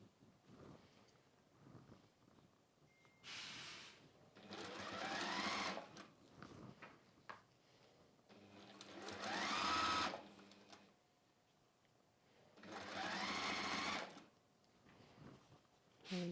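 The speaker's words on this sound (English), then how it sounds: "So I'm going to sew again across that top line." A sewing machine stitches across the top line of a foot-long flexi frame pouch in three separate bursts of whirring, with quiet pauses between them.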